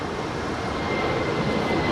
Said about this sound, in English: This north side departure on 24 left is Singapore Airlines Flight 11 departing to Tokyo Narita. It's a 777-300 ER.